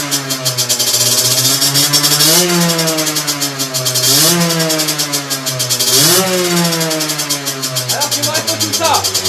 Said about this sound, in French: le moteur tout de suite il va en haut régime sans que j'ai continué à tourner la poignée